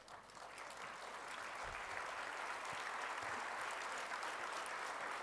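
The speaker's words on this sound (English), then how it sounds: "This applause is for your parents" First-year students applauding at a university orientation in Bengaluru, a steady wash of clapping from a large crowd heard at a distance, fairly faint and sustained.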